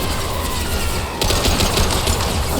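Heavy sustained gunfire in the Mass Effect 2 video game, a dense continuous barrage of shots that grows louder and busier partway through, with no talking.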